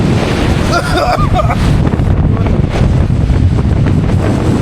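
Rushing floodwater with heavy wind buffeting the microphone, a constant loud roar, with a brief voice near the start.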